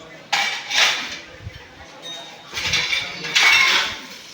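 Metal dishes and utensils clatter and clink in short bursts at a temple dining hall's washing area at night, with voices talking nearby.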